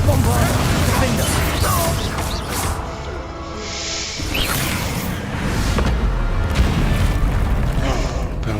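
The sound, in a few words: Confringo and Bombarda spell explosions in the video game Hogwarts Legacy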